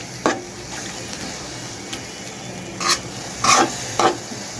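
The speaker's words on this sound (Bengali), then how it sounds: "আমি মশলাটাকে একটু কষিয়ে নিচ্ছি।" Ground chili paste frying in a pan while being stirred for a fish curry, a steady low sizzle broken by a few sharp scraping stirs, close and alone.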